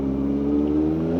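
A Kawasaki ZX-4R motorcycle engine holds a steady, loud, buzzing drone outdoors in an open area, close by and alone, in one short continuous burst.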